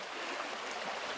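A rain-flooded river rushes by in a steady, loud broadband roar of churning water, with no voices.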